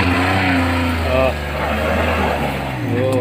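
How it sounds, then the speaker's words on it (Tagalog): A multicab with a freshly rebuilt engine revs and strains under load while climbing a steep slope, a loud continuous drone that rises and falls in pitch, with a voice talking over it. "tinitest yung power niyan kasi bagong rehab yung motor ng multicab"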